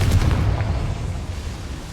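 Bombarda and Confringo explosion spells cast in Hogwarts Legacy, giving a deep, rumbling blast that swells at the start and then settles into a sustained low roar.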